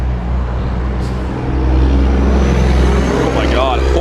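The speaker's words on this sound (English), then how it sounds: "That's like a full-size truck with no muffler on it, I think." A loud full-size truck running with no muffler rumbles close by in a deep, continuous roar that swells louder midway, while a person talks over it.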